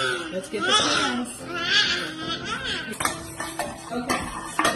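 Metal baking pans handled in a home kitchen while making cookies, with clattering and scraping knocks near the end, under a child's whimpering and adult speech throughout.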